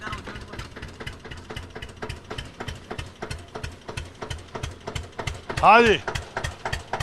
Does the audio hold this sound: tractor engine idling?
yes